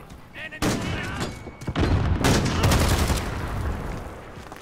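Heavy gunfire in Call of Duty: Modern Warfare, an abrupt loud burst followed by sustained rapid fusillade shots and booming thuds, with a player talking underneath.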